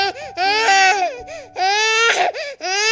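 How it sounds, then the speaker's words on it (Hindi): A recording of a baby crying played over a radio prank call, loud close wails rising and falling in three long bursts with short breaks between them. "बच्चा रो रहा है, आप क्या सुना रहे हो मेरे को?"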